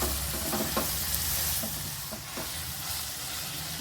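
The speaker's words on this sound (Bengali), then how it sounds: "এখন মশলার সঙ্গে একটু ভালো করে কষিয়ে নেব।" Fried vegetables being stirred into cooked spices in a pan for homestyle veg dal, with a steady close sizzle and repeated scraping stir strokes throughout.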